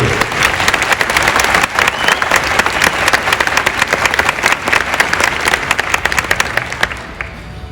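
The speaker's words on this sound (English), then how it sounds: "Let's give a round of applause to the graduating class of 2022." A large crowd applauds the graduating class at a high school graduation, dense clapping filling the space at a loud level, with faint cheering mixed in before it begins to thin at the end.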